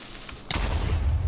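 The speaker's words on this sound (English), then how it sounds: "Oh, are these explosions getting bigger, or is it just me?" Explosions in the Minecraft video game: a sudden loud blast hits midway, followed by a sustained low rumbling roar that continues to the end.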